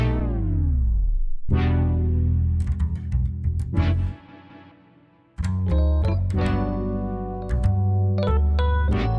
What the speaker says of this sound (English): together with my synth keys and upright bass, it sounds like this.